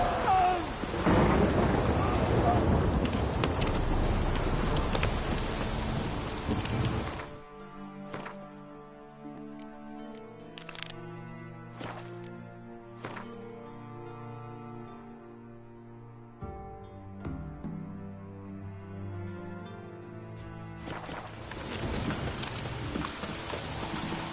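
Rain and thunder in The Witcher 3 open with heavy, steady rainfall and rumbling thunder, then give way to sparse orchestral game music before the rain swells back in.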